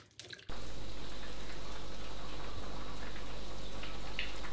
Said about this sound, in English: So as you can see, it's all nicely bubbling away